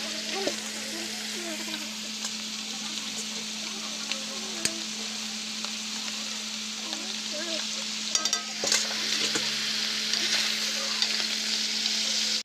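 Beef for Filipino beefsteak sizzles steadily in a hot pan, a close, continuous frying hiss with small pops and occasional stirring clatter, plus a faint steady hum underneath.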